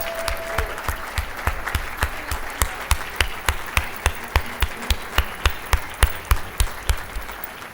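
Audience clapping in unison at a gala dinner in Washington, DC, forming a steady rhythmic beat of sharp claps that grows slightly stronger, with no talking.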